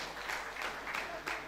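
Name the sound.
audience applause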